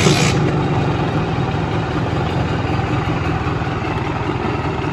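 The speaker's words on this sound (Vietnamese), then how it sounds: "bây giờ mình nổ máy nè, rồi đi thôi" A Simson S51 motorcycle engine runs steadily at idle, a continuous low chugging throb close by that holds even for about five seconds with no talking.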